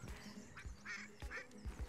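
Ducks quacking outdoors, several short nasal quacks in quick succession, fairly close and moderately loud.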